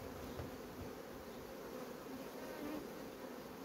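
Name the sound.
honeybees buzzing in a honey-producing hive colony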